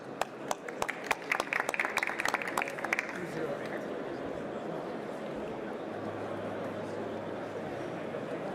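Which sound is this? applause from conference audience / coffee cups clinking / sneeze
applause from conference audience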